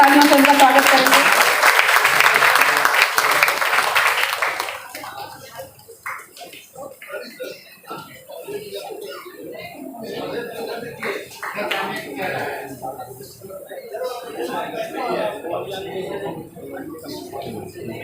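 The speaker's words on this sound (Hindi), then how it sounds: "बच्चे जोरदार तालियों से उनका स्वागत करेंगे" Students at a college international seminar welcome ceremony give a burst of strong applause lasting several seconds, which then fades into quieter murmuring and talk from people in the hall.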